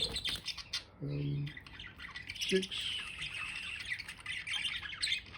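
A flock of about 26 white and blue budgies chirps and squawks constantly in a dense, busy chatter, with a person talking briefly over the birds.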